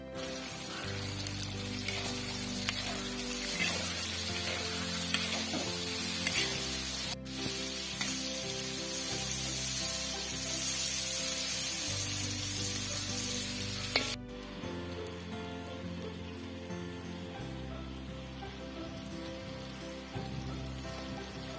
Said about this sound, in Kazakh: үстіне туралған пиязды салып, қуыруды жалғастырамыз